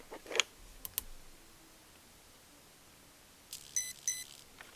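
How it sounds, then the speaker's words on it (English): Hobbywing Quicrun Mini24 brushless ESC in an SCX24 crawler emits short high electronic beeps, a brief pair near the end after a few faint clicks, quiet against a near-silent background. "Press and hold. Get the beeping."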